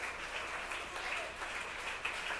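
Congregation at a church service breaking into sustained, dense applause, steady and fairly close throughout without a clear break.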